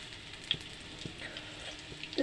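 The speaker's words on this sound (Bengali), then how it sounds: "এরকম আস্তে আস্তে ডুবো তেলে ভেজে নেবেন বন্ধুরা" Prawn fritters deep frying in hot oil, a quiet continuous bubbling sizzle with a few soft clicks and pops scattered through, faint and steady with no voices.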